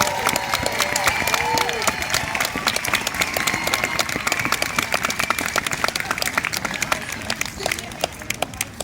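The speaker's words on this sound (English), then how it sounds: "Please give them a big round of applause." An audience at a chemistry magic show gives sustained, dense applause for the student volunteers, many hands clapping quickly and evenly, with a few voices and cheers mixed in.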